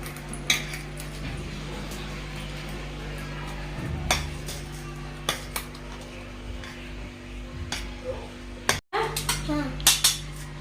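A potato masher works through peeled boiled potatoes in a pot, making irregular metallic taps and clatters with soft squashing between them, over a low steady hum.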